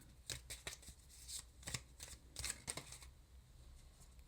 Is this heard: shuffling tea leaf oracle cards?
yes